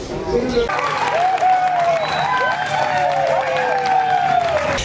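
An audience cheers and applauds as a film premiere screening begins in a darkened theater, the crowd noise steady and a little distant while a voice talks over it.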